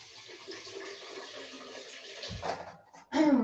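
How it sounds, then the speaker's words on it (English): Water runs and splashes while a blender jug is rinsed, a soft, faint trickle building into a louder, closer gush at the end. "rinse the jug"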